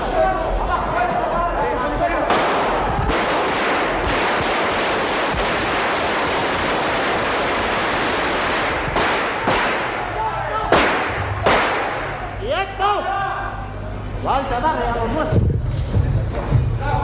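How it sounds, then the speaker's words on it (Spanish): Bursts of gunfire from a Spanish military coup crackle repeatedly, rapid volleys and sharp single shots, with a voice talking over parts of the commotion. "Con estos disparos se pudo consumar el 26º golpe militar"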